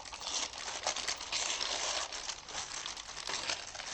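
Brown wrapping paper being torn by hand, a steady crinkling rip running through the whole few seconds, close and fairly loud with no talking.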